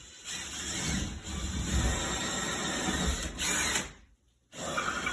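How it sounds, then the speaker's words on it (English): A power drill drilling holes for toggle bolts whirs steadily at close range, running continuously with a brief stop near the end before spinning up again. "And we'll drill out the holes."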